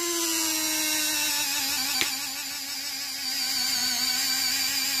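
A small electric servo folds the wings of an FMS F7F-3 Tigercat model airplane, whining steadily with a gliding pitch, a brief click midway, then continuing to hum at close range.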